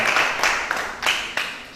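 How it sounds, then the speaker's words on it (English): An audience applauds after a presentation in a lecture theatre, a short steady wash of clapping with a few louder claps standing out. "let us give her a clap"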